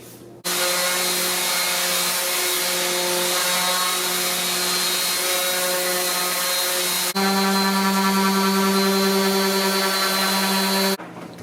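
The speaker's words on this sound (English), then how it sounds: "I used a combination of the random orbit and belt sander to sand the top of the cabinet surfaces" Random orbit and belt sanders work over Formica-laminated cabinet countertop surfaces in a steady, loud, droning whir that runs continuously, stepping up to a stronger pitch and volume partway through before cutting off.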